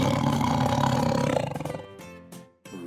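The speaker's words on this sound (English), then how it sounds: "To make a deep, loud sound. Like a lion or a tiger." A lion or tiger gives one deep, loud, sustained roar that breaks into a few shorter grunting pulses at the end, heard up close and alone.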